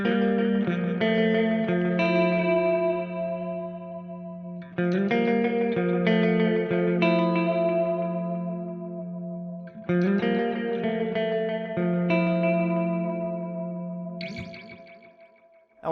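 A guitar playing repeated arpeggiated chord patterns through a Tapex 2 effects pedal setting, with echoing, chorus-like repeats trailing each note. It plays steadily and close with no talking, and ends in a brief final strum.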